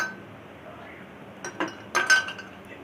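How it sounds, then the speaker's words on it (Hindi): Ice cubes dropped into a jug while making jamun sharbat, a short cluster of quiet clinks and knocks against the container over a soft background hiss, with no talking. "जग में हम बर्फ़ ऐड करेंगे।"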